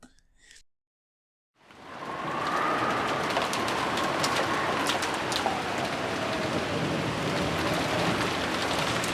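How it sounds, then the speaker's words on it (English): Fierce rain pours steadily onto an enclosed courtyard in the Umineko video game, starting after a brief silence and continuing as a dense, even hiss. "The courtyard was surrounded on all four sides, so while the rain was still fierce, the winds had almost no effect."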